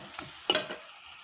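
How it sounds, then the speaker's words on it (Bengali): Spices, turmeric and chopped tomato being sautéed in a pan, heard as two brief scraping stirs with a light sizzle, the second one sharper and louder, then quiet. "দিয়ে এবার এগুলোকে ভালো করে একটু কষিয়ে নেবো।"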